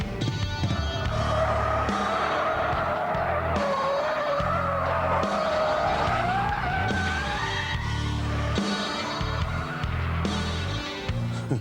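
A 370 horsepower supercharged Jaguar spins its wheels with traction control off, its tyres squealing loudly and steadily over the engine's roar for several seconds.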